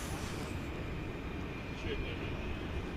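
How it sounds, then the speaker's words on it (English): Volaris Airbus A340 departing DFW Airport at night, a steady broadband jet roar holding loud and even throughout, with a voice talking over it. "There goes Volaris off to Morelia in Mexico,"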